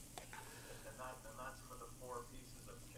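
Chicken frying in oil in a restaurant pan, a faint soft sizzle running under quiet talk in the background.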